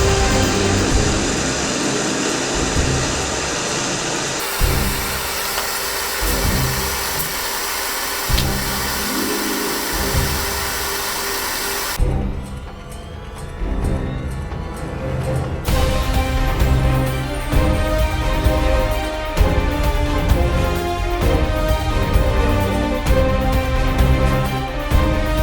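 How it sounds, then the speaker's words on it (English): High-temperature gas torch burning a motorcycle disc brake lock, a loud, continuous roaring hiss that shifts in character partway through and keeps going steadily without pause. "We use high-temperature gas torch to burn the American motor lock."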